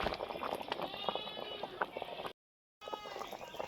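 Bowl-rinse water poured into a simmering rui fish mustard curry, a close, steady bubbling and gurgling of liquid that cuts out briefly before the bubbling resumes.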